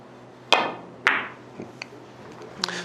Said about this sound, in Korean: 이 상태에서 걸어치기 한번 쳐볼게요